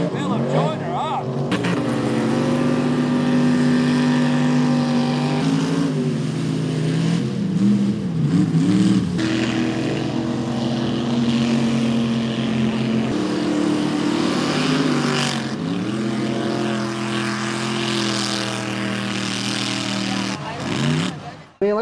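Off-road mud trucks with big tires and high horsepower roar through a muddy pit, engines revving loudly and repeatedly rising and falling in pitch at close range.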